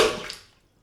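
A high pressure toilet plunger fires a single sharp burst of air into a clogged drain with water added, a loud hissing whoosh that fades out over under a second.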